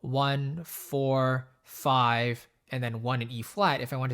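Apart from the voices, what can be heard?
None of the usual background noises is heard.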